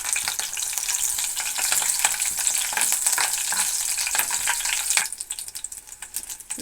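Green chillies and dried red chillies frying in hot oil for a Telugu pumpkin curry, giving a steady loud sizzle with crackling pops and spatter throughout that drops slightly near the end.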